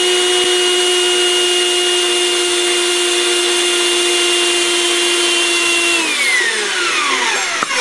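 A power tool cuts a 12-inch metal rod for a homemade baseball pitching machine, a loud, sustained whine that holds steady, then drops in pitch as the cut finishes.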